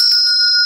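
Bell sound effect: a single bright, clear ring that holds steady and loud for under a second, alone.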